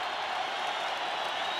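Baseball stadium crowd roaring and cheering at a 1988 National League Championship Series game between the Dodgers and Mets, winning run in scoring position; a dense, steady, loud wash of voices with no break.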